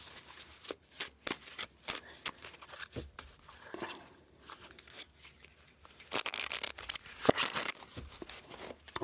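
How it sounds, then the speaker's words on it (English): A deck of tarot cards being shuffled up close, repeated riffles and slides of card stock in quick irregular flurries, with brief quiet gaps and a denser shuffle near the end, no voices. "All right, let's cut this deck."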